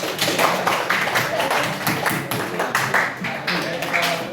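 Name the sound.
students clapping hands in a classroom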